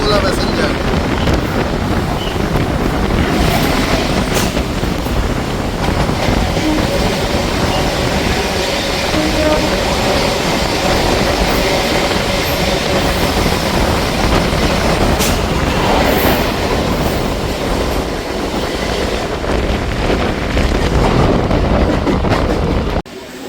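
A Sealdah–Krishnanagar local passenger train rolls steadily from a station, its loud, continuous rumble and rattle heard from inside the coach along with wind rush, lasting unbroken until a sudden cutoff.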